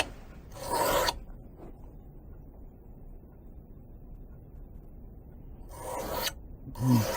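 A knife blade is sharpened on a stone, making rasping strokes near the mic. Two strokes come at the start and two at the end, with quiet between them.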